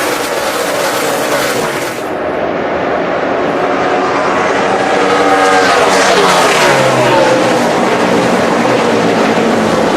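NASCAR stock cars racing at Texas Motor Speedway in the 2011 AAA Texas 500, a loud continuous engine roar with cars sweeping past and rising in pitch, with crowd and commentary noise mixed underneath.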